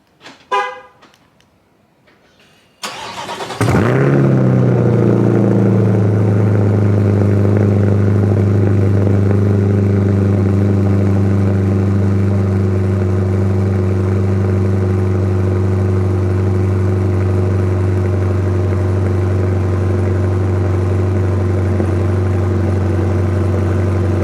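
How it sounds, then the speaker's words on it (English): A 2020 Chevrolet Corvette Stingray with a Hennessy exhaust cold-starts: a brief starter whir, then a sharp loud bark as the engine catches, settling into a deep, steady, rumbling high idle that continues unbroken. "let's go ahead and get this wicked cold start going"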